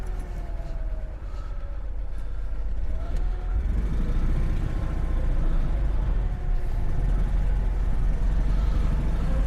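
A Citroën Ami 6 drives off-road with a steady engine drone and rumbling suspension over rough ground, continuous and fairly close, with some speech mixed in.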